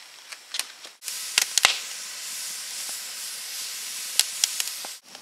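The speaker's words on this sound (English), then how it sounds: "Okay, it's just starting to boil." A pot of water and beaver fat heats on a barbecue and starts to boil, giving a steady close hiss with scattered sharp pops and crackles throughout, broken by two brief dips.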